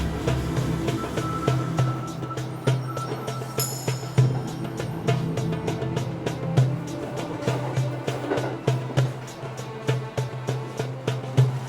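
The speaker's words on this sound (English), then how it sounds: "We're taking a local commuter train all the way to Chiba." Steady low rumble and rhythmic clatter of a moving local commuter train cabin heading to Chiba, Japan, with faint background voices and occasional clanks throughout.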